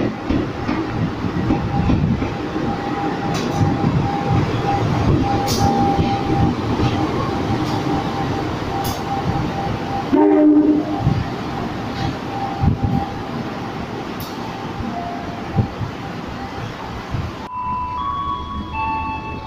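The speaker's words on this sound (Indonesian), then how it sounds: "Melintas langsung jalur 3 kereta api Argo Parahyangan dari stasiun Gambir tujuan akhir stasiun Bandung." The Argo Parahyangan passenger train rumbles straight through Jatinegara station in Indonesia with rhythmic wheel clatter, loud and close, and a brief horn-like tone near the end.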